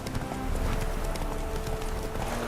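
A horse gallops in the video game The Witcher 3: The Wild Hunt, its hoofbeats running continuously under dense game noise and wind.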